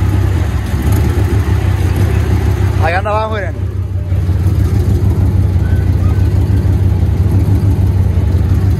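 A Ford Mustang idles with a muffler and exhaust problem, its steady, loud low rumble running the whole time while someone talks over it.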